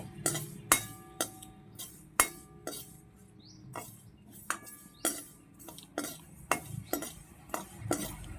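Black cumin seeds and two chillies dry-roast in a pan while a metal spoon stirs them, giving irregular, crisp clinks and scrapes against the pan, fairly close and quiet, with no voices.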